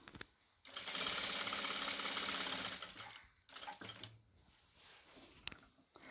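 A sewing machine stitching a quarter-inch seam on nighty fabric, running steadily for about two and a half seconds, then short stop-start bursts with faint clicks, close and moderately loud.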